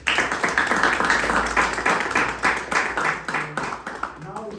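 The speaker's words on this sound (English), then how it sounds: "a round of applause for both of you" A small audience at a startup talk claps for the speakers, a loose burst of hand claps at close range with voices talking over part of it.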